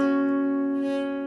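At full speed, a guitar plays the hammer-on lick from a song intro: a sustained ringing note with quick, subtle pitch changes, heard alone and clear.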